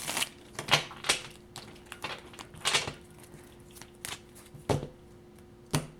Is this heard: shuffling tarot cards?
yes